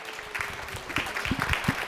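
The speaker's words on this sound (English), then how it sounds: "Let's give yourselves a round of applause." An audience at a municipal commission meeting applauding the holiday lighting contest winners, with scattered clapping from a modest crowd and a few louder, closer claps standing out near the end.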